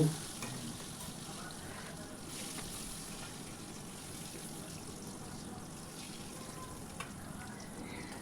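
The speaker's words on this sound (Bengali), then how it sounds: "এবার ঢাকনাটা খুলে আলুগুলো ভেজে নামিয়ে নেব" Potato pieces fry in oil in a home kitchen pan: a quiet, continuous low sizzle with faint crackles, steady from start to finish and heard alone.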